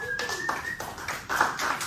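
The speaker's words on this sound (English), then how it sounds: "And people are clapping." An audience at a live music show claps, a steady wash of many hands with a sustained tone fading in the background and a brief voice near the end.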